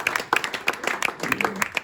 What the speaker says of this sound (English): we better give you a round of applause.